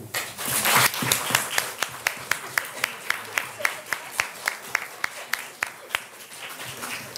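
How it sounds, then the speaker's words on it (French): A seminar audience applauding the speakers: a dense burst of clapping at first that thins into a steady rhythm of a few individual claps, close and clear. "je pense qu'on peut applaudir nos intervenants"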